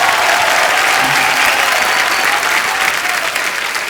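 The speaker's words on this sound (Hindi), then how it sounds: "जोरदार तालियां" Loud, dense studio audience applause on a Hindi comedy talk show set, a steady wall of clapping and crowd noise lasting throughout without pause.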